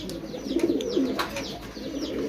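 A Pakistani beauty pigeon coos close by, with a few soft, throaty rolling calls repeated over a couple of seconds against faint background chirps.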